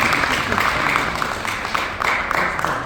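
Audience at a Nigerian diaspora gathering in Russia bursts into brief, dense applause, a steady roomful of clapping with faint voices mixed in.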